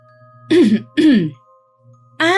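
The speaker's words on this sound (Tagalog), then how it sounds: "Kunwari akong umubo para mapansin nila ako." A woman gives two deliberate, fake coughs in quick succession, close and loud, followed by a short pause before a voice begins speaking.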